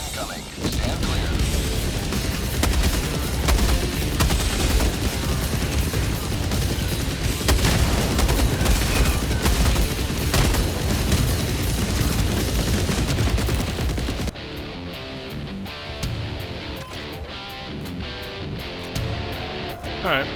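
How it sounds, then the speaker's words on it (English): Orbital barrage strikes in a shooter video game, a dense roll of booming blasts and rapid gunfire-like impacts for about fourteen seconds, then cutting to a quieter stretch of distant rumbling. "Orbital barrage incoming. Stand clear."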